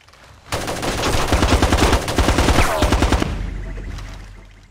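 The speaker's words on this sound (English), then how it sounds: "Trying to fire in bursts to preserve ammo." Rapid rifle fire in bursts in Ghost Recon Advanced Warfighter 2 on PSP, loud and close, several short strings of evenly spaced shots over about three seconds, then a softer tail.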